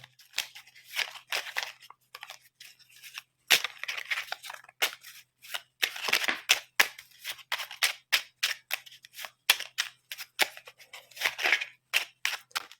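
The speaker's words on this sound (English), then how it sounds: "when it comes to shuffling, let's hear it" Bursts of crisp riffling and snapping as a mini tarot deck is shuffled over and over, close by, in irregular rapid runs with short pauses between.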